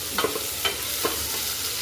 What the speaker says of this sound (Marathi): कांदा घालून घेणार आहे फ्राय करून घ्यायचा आपल्याला कांदा